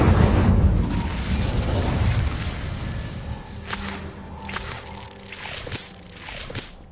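Incendio fire spell cast in Hogwarts Legacy, a loud roaring burst of flame that fades into crackling whooshes and scattered sharp hits.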